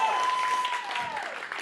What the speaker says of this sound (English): Give a big round of applause for Tyshawn